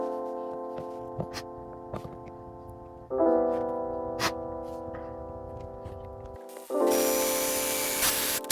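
Screws are driven to fix a bent wooden part and an iPhone holder for a homemade filming rig. A power driver whirs loudly in two sustained runs, with sharp clicks and knocks between them.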